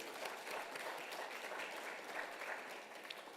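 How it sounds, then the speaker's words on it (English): An audience at a panel event on education claps in a steady, dense round of applause, moderately distant and unbroken for several seconds. "please, a round of applause for our panelists"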